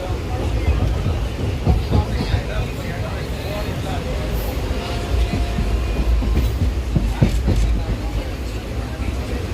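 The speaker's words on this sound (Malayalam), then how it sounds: "ഇപ്പോൾ ഞങ്ങൾ നിൽക്കുന്നത് ആലുവ റെയിൽവേ സ്റ്റേഷനിലാണ്." A train rumbles steadily past at Aluva railway station with rhythmic clickety-clack of wheels on rails, while people talk in the background.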